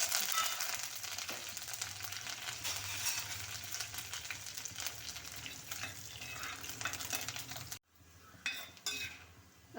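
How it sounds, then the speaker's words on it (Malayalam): Onion, chili and curry leaves hit hot oil with popped mustard seeds for a coconut milk rasam, giving a loud, steady frying sizzle that cuts off abruptly, then returns more faintly with a few stirring clatters. "കടുക് പൊട്ടിയതിലേക്ക് ഉള്ളിയിട്ട് മുളക് കൂടെ ഇട്ട് കൊടുക്കാം ഇനി അതിലേക്ക് കറിവേപ്പില ഇട്ട് കൊടുക്കാം"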